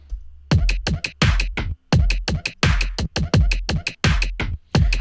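Chopped drum fills from Splice sample packs layered together in a Logic Pro X beat, playing as a loud, dense run of rapid snare and tom hits with short gaps, punchy low thumps under bright crisp attacks.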